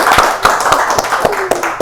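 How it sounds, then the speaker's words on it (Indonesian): A studio audience at a university business-competition talk show claps in a quick, fairly regular rhythm, sharp hand slaps standing out over a light wash of room noise and faint voices. "Tepuk tangan dong"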